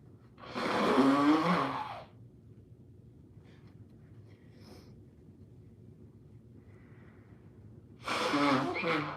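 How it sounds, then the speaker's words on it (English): Someone blows their nose into a tissue: two loud, close, breathy honks several seconds apart, separated by quiet room noise. "Let me blow my nose."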